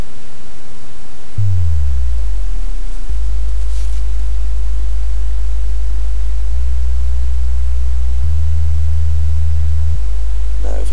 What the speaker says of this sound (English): I'll go straight into a bass that can be used in a dubstep beat